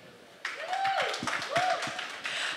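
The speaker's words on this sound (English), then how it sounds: "I think that calls for an applause," Press conference audience applauding the cast of The Family Man: a steady wash of clapping starts suddenly and carries on fairly loud, with a thin whistling tone sweeping above it.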